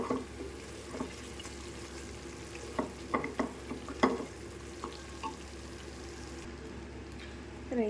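Tomato rice mixture sizzles in a pan while a utensil stirs it, giving irregular scraping knocks over a low steady frying hiss, close by.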